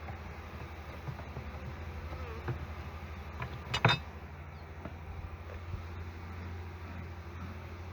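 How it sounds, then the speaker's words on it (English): Honeybees in a swarm building out new comb, a continuous low buzzing hum with scattered faint ticks and one brief louder clink partway through, no talking. "the bees are expanding the comb right now"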